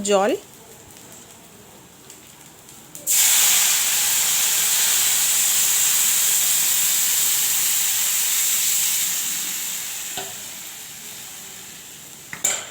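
Water poured into a hot pan of rohu fish curry with green banana, cumin and bay leaf sets off a loud, steady hiss that lasts several seconds and slowly fades, with a brief voice at the start and end.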